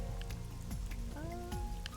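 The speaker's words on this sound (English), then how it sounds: "A parasol is getting pelted by the rain." Rain pelting a parasol in the video game Ai: The Somnium Files: a steady wash of patter at even loudness, with tonal game music and sliding electronic tones running through it.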